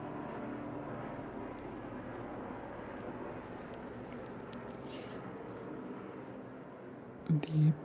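A helicopter passes overhead as a steady, broad rumbling drone that holds level throughout, heard faintly in the background behind soft indoor sounds and a brief knock near the end.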